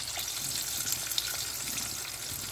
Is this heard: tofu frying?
yes